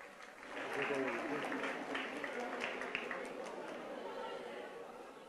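An audience applauds award recipients at a school inter-school Artvin folk song competition, with a steady wash of clapping mixed with crowd chatter throughout.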